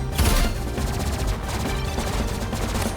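Dense rapid gunfire in a knife 1v1 video game, a continuous rattling barrage of overlapping shots and impacts, loud and close for the full stretch with no pauses.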